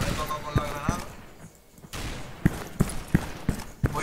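Rapid gunfire in a competitive online shooter match, a run of sharp evenly spaced shots close up, mixed with game noise and a player's speech.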